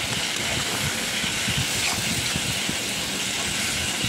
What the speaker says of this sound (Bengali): এবার এটা ভালো করে ভেজে নেবো, যে যতটুকু জল আছে ভালো করে টানিয়ে নেব